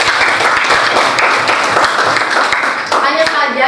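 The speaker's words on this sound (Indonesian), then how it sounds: "Tepuk tangan dulu untuk Jason deh." A classroom of students claps together in a brief, lively burst, the close rhythmic hand claps dense and loud before tapering as a voice begins to speak.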